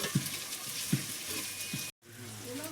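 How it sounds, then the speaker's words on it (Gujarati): Tomato and garlic sizzle in a pan as dal is tempered, a steady close frying hiss broken by a few soft stirring bumps and a brief gap near the end. "તો કઈ પ્રકાશ એમ દાળ વઘારે છે"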